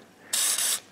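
Aerosol can spraying onto the upper engine mount of a Chevy van, two loud close hissing bursts with a brief break between them, about half a second in total.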